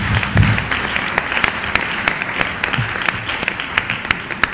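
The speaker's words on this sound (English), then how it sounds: "Please let us give a hand of applause to God Almighty." Audience at an annual lecture breaks into sustained, full-room applause, dense and steady with sharp individual claps standing out throughout.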